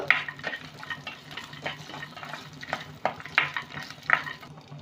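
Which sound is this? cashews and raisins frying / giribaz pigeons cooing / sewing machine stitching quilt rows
cashews and raisins frying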